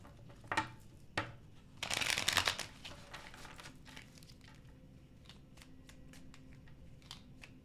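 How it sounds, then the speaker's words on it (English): Tarot cards are shuffled close up, with a burst of dense riffling and shuffling in the middle, framed by scattered taps and soft card clicks, quiet and without talk. "All right, last shuffle."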